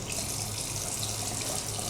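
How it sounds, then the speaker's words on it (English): A sink tap runs steadily while water is warmed for a healthcare handwashing routine, a constant close splashing hiss of water into the basin with no talk. "So we're regulating the water, and as soon as the water is warm, we're going to rinse our hands first."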